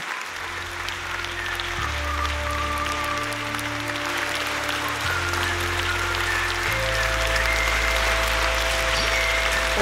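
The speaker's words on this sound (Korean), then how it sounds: "기립박수." Standing ovation at a rock concert in Pyongyang, dense applause from a large audience running steadily throughout, with sustained music tones and a low bass drone beneath the clapping.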